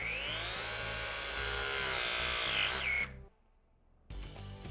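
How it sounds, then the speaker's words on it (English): A press tool crimps a copper press fitting, giving a loud, steady motorized whine that rises slightly as it works for about three seconds, stops, then a brief quieter pause and a short burst of tool noise follows. "Open the jaw, securely place the jaw around the fitting, make sure it is centered and straight, and then activate the tool."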